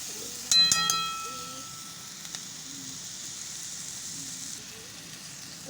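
Pointed gourd and chickpeas sizzle and fry steadily in a pan, a soft continuous hiss with a brief louder clatter of stirring near the start, while a voice talks faintly underneath.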